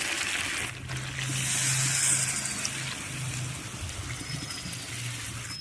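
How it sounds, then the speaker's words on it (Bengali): Water poured into a pot of cooking chicken curry, a steady gushing pour running for several seconds at moderate volume, with no talking. "এবার আমি দিয়ে দেবো কিছুটা পরিমাণ জল।"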